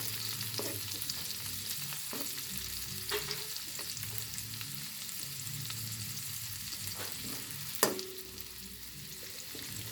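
Dried shrimp (hibi) sautéing in a pan for ginisang upo, a steady close frying sizzle with occasional stirring scrapes and one sharp clink near the end, no talk.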